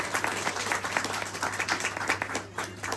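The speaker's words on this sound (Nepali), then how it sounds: "हाम्रो इसाक भाइ लगायत सम्पूर्ण टिमको लागि हामी ताली बजाएर धन्यवाद दिनेछौँ" An audience at a Christmas celebration gives a dense burst of clapping for the music team. The applause runs steadily throughout and a low hum sits beneath it.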